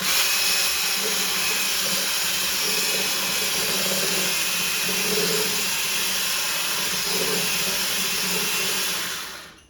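An electric mixer whisks cake batter, whirring loudly and steadily for several seconds, then winds down and stops at the end.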